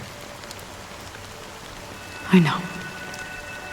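Steady rain falls in Honkai: Star Rail, a soft continuous hiss of drops under a brief spoken line with a short louder burst partway through.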